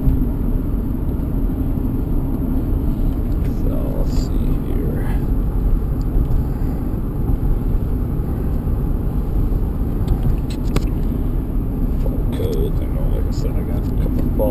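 A GM car with active engine fault codes drives on the road, producing a steady low road rumble and engine hum throughout, with someone talking over it.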